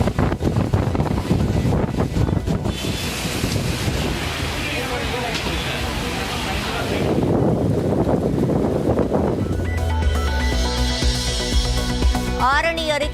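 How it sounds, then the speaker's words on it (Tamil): Heavy rain driven by strong wind near Arani in Tamil Nadu, a storm that damaged banana plantations, roars as a steady broadband rush throughout, with a voice talking over it. "ஆரணி அருகே பலத்த காற்றுடன் பெய்த கனமழை."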